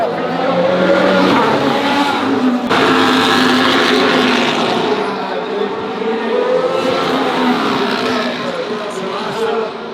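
Formula 1 cars scream past at the Monaco Grand Prix, a loud, continuous high-pitched engine whine with pass-by swells, while people talk nearby over the noise.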